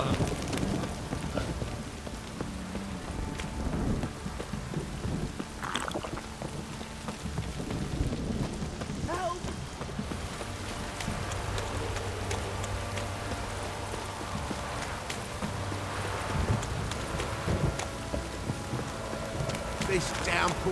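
A heavy rain downpour in The Witcher 3 video game: a steady hiss of rain lasts the whole time under low game rumbles and occasional footsteps and clatter, with a voice speaking briefly partway through.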